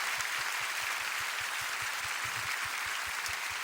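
Steady applause from an audience at a church prayer meeting, many hands clapping in a dense, even rhythm that fills the whole moment without talk.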